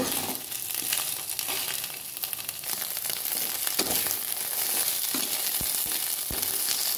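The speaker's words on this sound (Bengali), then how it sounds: "এই থারকোল শাকটা দিয়ে দিলাম। নাড়াচাড়া করে নেব।" Leafy green thankuni paste with a pinch of nigella seeds fries in a pan, giving a dense, continuous close sizzle broken by the soft scrape of stirring and a few sharp taps near the end.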